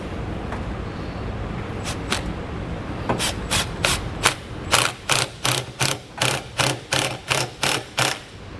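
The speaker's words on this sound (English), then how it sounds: "we'll take a 5/16 socket and we'll tighten it down." A hand ratchet with a 5/16 socket tightening a bolt while mounting a Curt T-connector wiring harness, close crisp clicking strokes that start sparse and settle into a steady rhythm of repeated pulls.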